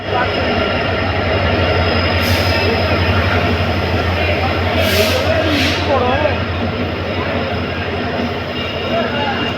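An Indian Railways WDP4 diesel locomotive hauling the Vivek Superfast, heard as a loud, steady rumble with a constant low drone, broken by a few brief high squeals.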